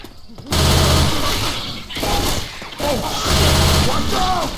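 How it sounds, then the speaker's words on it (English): Rapid bursts of gunfire from a zombie shooter video game, Left 4 Dead 2, crackle loudly in two sustained volleys with a short gap between, while players talk over the shooting. "Stop shooting me!"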